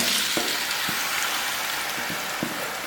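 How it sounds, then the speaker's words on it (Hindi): Marinated achari chicken frying in hot oil, a steady close sizzle and crackle with occasional soft stirring knocks throughout. "ये नाज़रीन हमारा ऑयल गर्म हो गया है। अब इसके अंदर हम अचारी चिकन डाल देंगे।"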